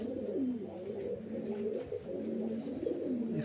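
A small male highflyer pigeon coos softly and repeatedly at close range against a low, steady background hum.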